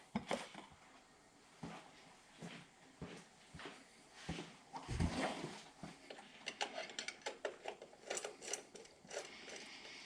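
Ratchet on a quarter-inch wobble extension, turned while working on a 1985 Corvette's TPI engine during a distributor install: repeated quick clicking bursts, close and fairly quiet, with no talking.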